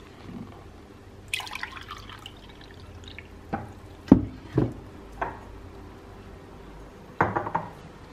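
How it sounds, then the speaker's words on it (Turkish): Dishes and glasses clink in a cluttered student-style home kitchen during a search for a clean glass: scattered sharp knocks and rattles, several close taps, over quiet room noise with no talk. "Temiz bardak bulayım."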